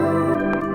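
Vocal chops run through a tape delay effect from the Arcade 2 plugin, a sustained, layered tonal bed with repeating echoes and a brief bright burst near the end, played alone at steady level.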